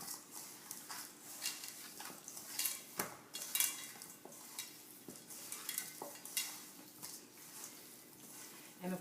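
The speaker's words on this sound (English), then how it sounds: "And now I am going to mix this up." Seasoned chicken pieces being stirred and tossed in a bowl for barbecue chicken, with steady wet mixing and repeated clinks and knocks against the bowl, close by; no talking.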